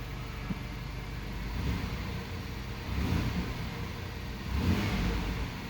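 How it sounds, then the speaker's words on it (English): An Oldsmobile 88 engine running smoothly nearby after a sensor replacement, rising in a few smooth, responsive revs over a steady low hum. "car runs a lot smoother."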